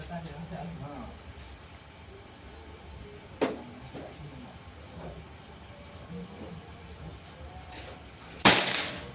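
A Predator Pajero Gen 6 air gun fires once at about 3.5 seconds during an accuracy test, a sharp crack followed by a sharper, louder report near the end, with someone talking over a low background hum.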